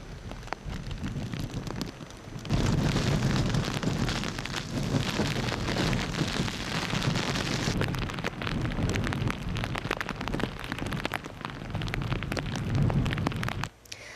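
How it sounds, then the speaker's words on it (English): Heavy rain pours across Hong Kong, a dense steady roar of downpour that swells loudly after a few seconds and holds throughout, with a low rumble of thunder beneath. "Unstable weather is expected to linger over the next 2 days as heavy rain pours across the city"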